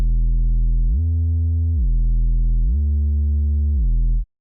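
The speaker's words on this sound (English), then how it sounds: "So I found a perfect sub bass for this." A deep, clean sub bass synth (Bass Lunatic) plays sustained low notes in a future bass drop, shifting pitch a few times before cutting off.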